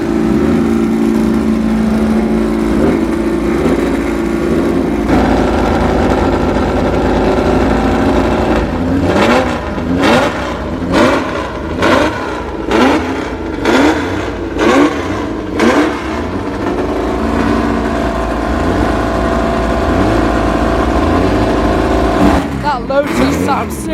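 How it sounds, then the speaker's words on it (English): A stripped-out Lotus Cortina racing car at a classic race meeting: a loud, close engine idles roughly at first, then is blipped through a series of sharp, repeated revs, with a final burst near the end. "That Lotus is so loud."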